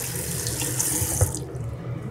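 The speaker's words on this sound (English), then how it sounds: "And it's actually squirting water all over my phone." A bathroom tap runs steadily into a sink while a makeup eye brush is rinsed under the stream, a close, continuous hiss of splashing water with a brief louder splatter near the middle before the flow fades.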